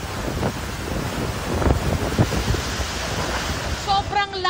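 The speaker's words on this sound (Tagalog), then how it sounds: "Sobrang lakas ng hampas ng hangin, pati na rin ang ulan dito sa Kasiguran." Typhoon Nika battering Kasiguran with strong wind and heavy rain, a loud continuous roar with gusty surges that crowd the microphone, and a voice briefly speaking near the end.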